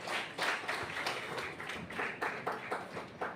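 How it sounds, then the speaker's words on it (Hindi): Sparse, slow clapping from an audience applauding company achievers, a steady patter of separate claps at a modest, unenthusiastic pace with no talking. "तालियां बहुत स्लो बजी"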